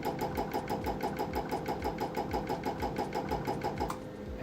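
A Pulse Point laser welder runs along a seam, firing rapid, evenly spaced pulses in a quick mechanical rhythm that stops just before the end.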